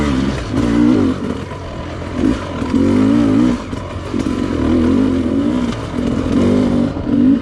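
Sherco dirt bike engine cruising in third gear across hilltops, a steady close motorcycle drone with rising and falling throttle surges and faint clatter, loud and continuous.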